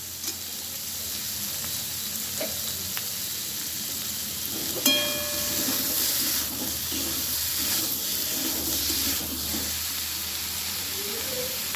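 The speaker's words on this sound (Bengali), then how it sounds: "আমি এবার পরিমাণ মতন জল দিয়ে দিচ্ছি।" Water pours into a sizzling pot of mrigal fish curry with cauliflower and potato, a steady hiss and splash over loud frying, with a few sharp clinks partway through.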